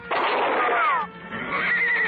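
A horse gives a loud, shrill whinny that rises and wavers for about two seconds in a Western radio drama, close and prominent with no talk over it.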